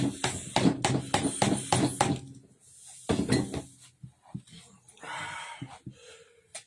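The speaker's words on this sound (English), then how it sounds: "I can put the spatula in there and it just gets right down in there without cracking or breaking" A spatula working into the seam of a stone casting mold, giving light clinks, taps and a brief gritty scrape between and under a person talking.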